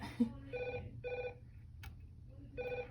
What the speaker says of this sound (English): Sorry, the phone is ringing.